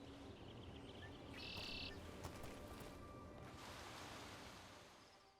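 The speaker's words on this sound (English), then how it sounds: "I think we got these bird noises more in DAI too, but like I do like the noises like that" Bird calls echo through the Arlathan Forest in the video game Dragon Age: The Veilguard, several chirps and tweets layered over a quiet, steady ambient wash, with no voices.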